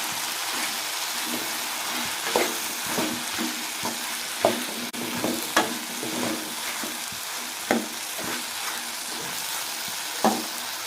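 Vegetables, including bottle gourd, sizzle and fry in hot oil, with intermittent stirring clatters and scrapes at irregular intervals throughout.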